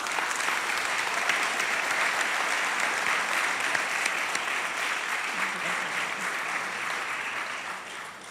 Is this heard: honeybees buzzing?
no